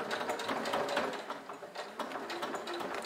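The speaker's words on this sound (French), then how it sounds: "c'est parti pour la surpiqûre" A sewing machine runs steadily topstitching a fabric pouch, a fast rhythmic mechanical chatter of the needle, close and moderately loud, slowing briefly midway before carrying on, with no voices.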